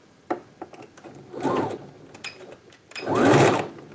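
A sewing machine stitching the inseam of a pair of pants, with two short close runs of mechanical stitching, the second longer and louder, separated by faint clicks and handling.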